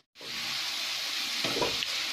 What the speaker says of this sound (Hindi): हाई फ्लेम पर 1 मिनट तक इसको लगातार इस तरीके से चलाएंगे